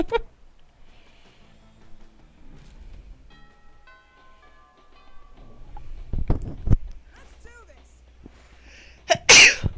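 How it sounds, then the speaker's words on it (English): A quiet room with faint murmuring and light background sounds, then one sharp, loud sneeze bursts out near the end. "Oh, excuse me, I sneezed."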